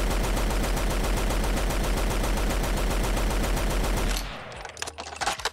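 A Lewis gun fires in a Fallout 4 mod, a rapid, steady stream of loud automatic shots with heavy low thump that stops abruptly near the end, followed by a few scattered mechanical clicks and rattles.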